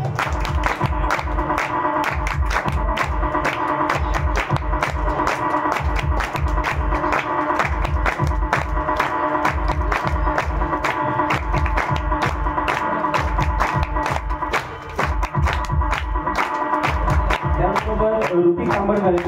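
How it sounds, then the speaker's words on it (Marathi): An audience claps at a school student award ceremony run by a Mumbai community group. The clapping is rhythmic and sustained throughout, with crowd murmur in the background. "जोरदार टाळ्या झाल्या पाहिजे."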